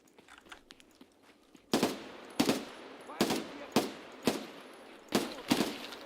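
Gunfire in Escape from Tarkov: loud, sharp shots in several separate bursts, some single and some doubled, cracking out over quiet game ambience after a calm opening.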